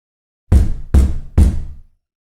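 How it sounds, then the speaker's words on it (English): Three loud, heavy knocks boom on a front door, evenly spaced and close, each with a short ringing decay before silence. "I heard 3 loud booms coming all the way from my front door"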